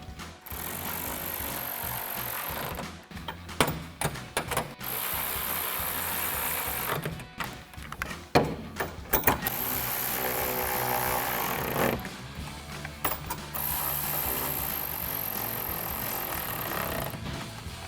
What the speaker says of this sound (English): grab your 10mm socket and tighten these down